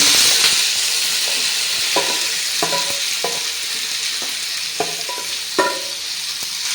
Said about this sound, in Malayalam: അപ്പോൾ എണ്ണ ചൂടായിട്ടുണ്ട് അതിനകത്തേക്ക് നമുക്ക് ചക്ക ഇട്ട് കൊടുക്കാം